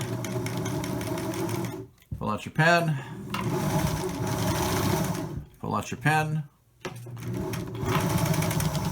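A sewing machine stitches a face-mask strap in steady mechanical bursts, pausing twice while a person speaks briefly between runs.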